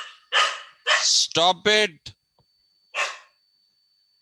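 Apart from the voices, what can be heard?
dogs barking during an online class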